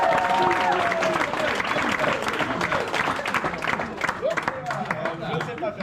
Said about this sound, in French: Et aussi un tonnerre d'applaudissements pour JCVD.